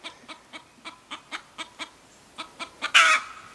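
Chicken on a homestead clucking in a steady run of short, evenly spaced notes, then breaking into a loud, harsh squawk near the end, close by with no talk over it.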